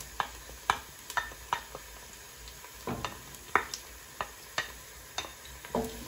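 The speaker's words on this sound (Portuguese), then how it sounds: "Deixar o alho fritar um pouquinho." Grated garlic and browned onion frying in a pan for Portuguese seafood rice, with a soft steady sizzle under repeated sharp clicks and scrapes of stirring, close and moderately loud.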